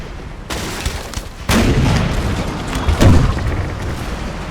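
Naval cannons fire in a Napoleon Total War sea battle, with booming blasts in separate bursts, a sharp onset, then a heavier sustained rumble and another loud boom, all without speech.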